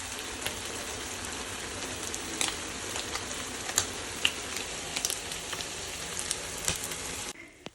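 Sweet pumpkin slices frying in oil in a pan, a dense steady sizzle with scattered crackles and pops, close and continuous until it cuts off at the end.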